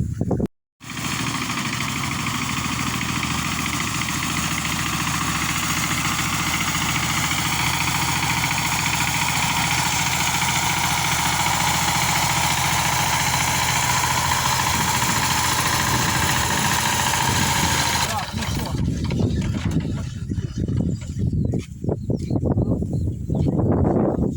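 A walk-behind tractor engine out gathering firewood starts abruptly and runs in a loud, steady, rattling drone for most of the stretch, then cuts out, leaving rustling and clatter nearby.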